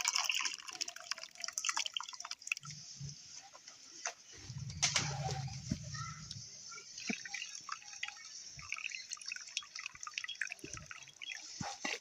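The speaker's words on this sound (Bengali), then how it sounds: "এটাকে ছেঁকে নিচ্ছি এবারে কাপড়ে করে একটা" Whey dripping and splashing as freshly curdled chhana is strained through cloth in a home kitchen, quiet irregular drips with a brief louder pour and faint birds in the background.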